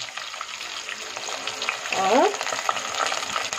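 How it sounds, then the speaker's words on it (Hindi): Whole garam masala spices sizzle loudly in hot oil for a home-style dahi gosht, with a sharp crackling burst midway over a steady frying hiss; a single word is spoken briefly. "अभी ऑयल गरम हो गया तो हम सारे गरम मसाले इसमें ऐड कर देंगे"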